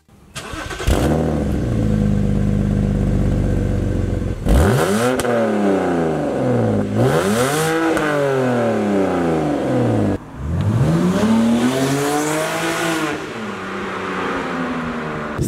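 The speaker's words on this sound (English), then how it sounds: "So that was the drilled exhaust." A BMW engine revs up repeatedly through a drilled muffler with a raspy, throaty exhaust, several loud rising bursts close by with no talking.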